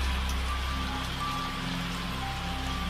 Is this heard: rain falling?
yes